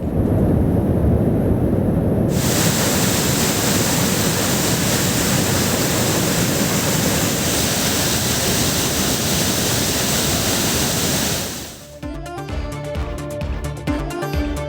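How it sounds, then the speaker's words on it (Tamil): Floodwater rushes over the Thirparappu waterfall on the swollen Kodai river, a loud, steady roar of broadband noise that runs unbroken for about twelve seconds before giving way abruptly to music. "வெள்ளக்காடாக மாறிய திருப்பரப்பு அருவி பகுதி"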